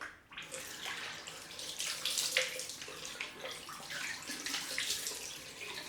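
Tap water runs steadily into a basin while shaving cream is rinsed off after a head shave, a close, continuous splashing hiss with small fluctuations as hands move through the stream.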